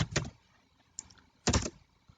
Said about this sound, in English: Now let's type the same matter without quotes.